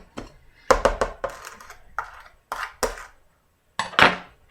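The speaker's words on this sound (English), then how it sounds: "So you just use your knife and you can loosen that up." A knife scrapes and clinks repeatedly against a container of packed brown sugar during sweet potato pie preparation, a series of close, irregular metallic taps and scrapes.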